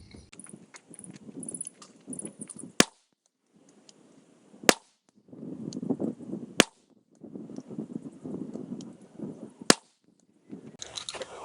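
A 20 gauge shotgun fires reloaded #4 buckshot shells at an outdoor range: four sharp, loud reports spaced a few seconds apart, separated by shuffling, handling noise and footsteps.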